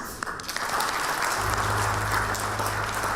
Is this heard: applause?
yes